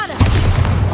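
Bombarda blasting spell in the video game Hogwarts Legacy, a sudden deep boom that hits near the start and rolls on as a heavy low rumble with crackling debris.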